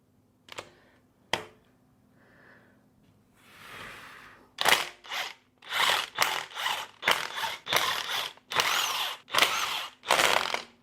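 A power tool backs out intake manifold bolts on a Ford 289 small block engine, a few sharp clicks first, then repeated short close bursts of whirring drill noise with brief gaps between them.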